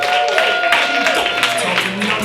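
A comedy club audience breaks into applause for a stand-up comedian, with quick, uneven claps rising and falling under a voice talking over them.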